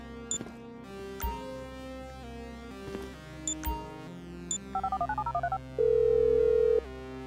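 A phone call is dialed in Grand Theft Auto V: menu beeps and clicks over a game music bed, then a rapid run of dialing tones and a sustained ringing tone.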